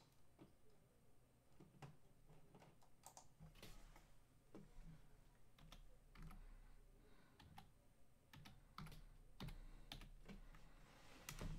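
Keys on a computer keyboard clack in a quick, uneven run of sharp taps, with no talk. The typing is clear and close but fairly quiet.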